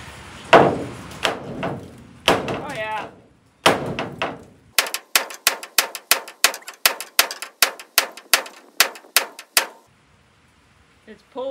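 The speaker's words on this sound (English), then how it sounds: "Let's try a small hammer first." Small hammer banging a dent out of metal, a long run of sharp, evenly spaced strikes following a few irregular louder knocks, close and loud, with a brief voice early on.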